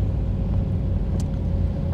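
A 1935 Horch 850 Sport car drives along with a steady, close low engine rumble and road noise, even throughout, with a tiny brief click near the middle.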